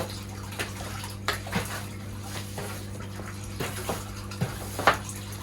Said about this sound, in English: Don't really want any of this crap going in the pond, so I'll try and sweep it up as best I can out to the edge.